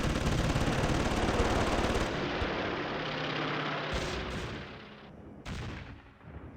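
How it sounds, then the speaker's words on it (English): Video game aircraft strafe Gravesend airfield with machine guns, a dense rattling burst of gunfire over engine drone, loud and continuous before thinning out near the end. "Strafing Gravesend, come on."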